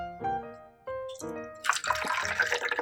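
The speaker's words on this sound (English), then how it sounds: "Pour some in this little cup right here." Canada Dry ginger ale poured into a small cup, starting with a few hollow clinks and glugs, then a close, continuous splashing pour with fizzing carbonation.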